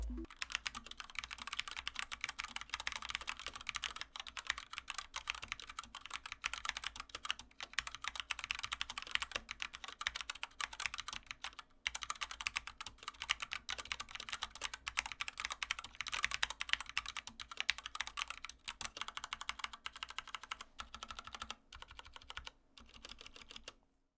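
Continuous rapid clacking of a Keychron K2 mechanical keyboard with Gateron Brown switches, close and steady, with brief pauses in the typing rhythm.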